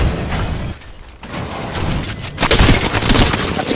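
Gunfire and explosive booms in Apex Legends, with sharp bursts of shots, a brief lull, then louder close blasts and rapid fire.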